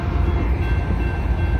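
A Union Pacific manifest freight train rolls past a railroad crossing in Marana, Arizona as a distributed-power locomotive goes by, a close, continuous heavy rumble and rail roar without pause.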